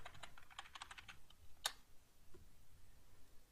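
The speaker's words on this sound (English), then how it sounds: "Now type new password and type it again." Keys tapped on a computer keyboard while a new root password is entered in a Kali Linux terminal, a quick burst of soft clicks followed by one sharper press and then quiet.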